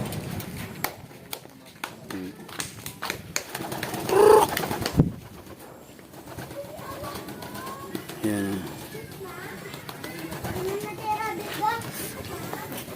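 Pigeons coo in a mountain forest at Bundok ng Natividad, Pangasinan, softly and in the background, while someone talks over them and children's voices carry in the distance.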